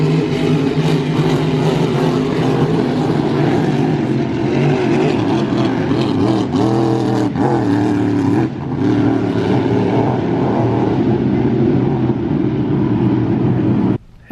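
Hydroplane race boats roar steadily at Lake Guntersville Hydrofest, heard from the shore as a loud, continuous engine drone with rising and falling pitch that cuts off abruptly near the end.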